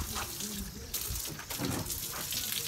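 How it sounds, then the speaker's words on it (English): Water runs steadily from a tap, a close, continuous hissing splash that carries through the whole short stretch with no pauses. "Let's see if I can turn off the water."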